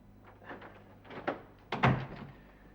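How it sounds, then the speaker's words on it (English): An indoor door being shut, with a few soft shuffling knocks leading up to a solid closing thunk near the end, close by and without talk. "Close the door, will you?"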